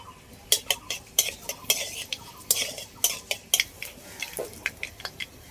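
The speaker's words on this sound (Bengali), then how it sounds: "কড়াইতে দিয়ে দিচ্ছি সর্ষের তেল, ফোড়নে দিয়ে দিচ্ছি শুকনো লঙ্কা আর সর্ষে" Dried chili and mustard seeds tempered in hot mustard oil in a kadai, heard as a run of sharp, close crackling pops and clinks at an uneven rhythm throughout, with no talking.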